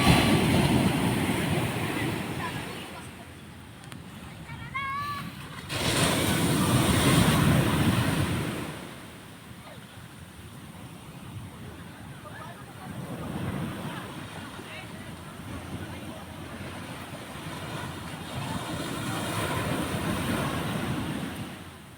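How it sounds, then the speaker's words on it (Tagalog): Ocean waves roll and break at Dahican beach in Mati City, where people are surfing, in surges of rushing surf with wind buffeting the microphone, while people talk in between. "Ganda, ang lalaki ng alon."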